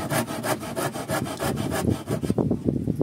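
A hand saw cuts through wood in quick, rhythmic back-and-forth strokes, close and loud, the rasping strokes turning shorter and choppier toward the end, with no talking.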